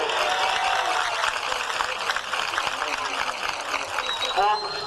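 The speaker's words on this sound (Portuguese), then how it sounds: "Uma salva de palmas para ele." Crowd at a Santo Antônio church festival giving a round of applause, a steady dense clapping that runs the whole time with faint voices and a brief tone near the end.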